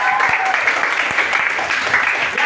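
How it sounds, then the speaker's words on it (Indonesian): A middle school class breaks into sustained applause, a close, loud, continuous patter of many hands clapping that holds steady throughout. "Tepuk tangan untuk kita semua."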